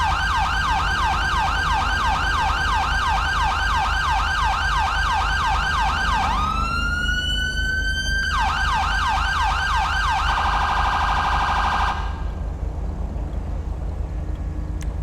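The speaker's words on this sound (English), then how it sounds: "Alright, siren scan." An electronic police siren in a video game cycles through several tones in turn: rapid warbling yelps, a rising wail, then a fast pulsing tone, loud and continuous with no talking.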